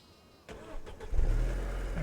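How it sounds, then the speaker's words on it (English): A car engine in Farming Simulator 25 cranks briefly and catches, then settles into a low, steady idle rumble, close and clear with no talking. "Start the engine."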